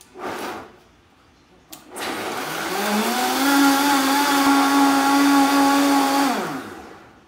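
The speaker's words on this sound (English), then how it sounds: "you'll blend this on high for an entire minute while it gets really creamy" A blender whirs loudly and steadily on high speed for several seconds blending dairy-free creamer, its motor pitch rising as it spins up, after a brief clatter at the start.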